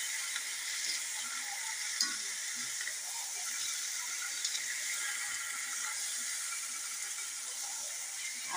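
Chicken frying in a pan with chopped onion, ginger and garlic, a steady bright sizzle that stays even and continuous, with occasional soft stirring knocks, close and moderately loud with no talk.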